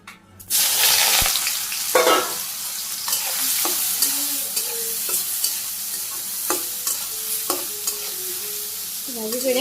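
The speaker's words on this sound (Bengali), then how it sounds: "ভাজি করে নিই হালকা একটু লবণ দিয়ে।" Soybean chunks tossed with turmeric and salt fry in a pan, a loud continuous sizzle broken by repeated scraping stirs, close and steady.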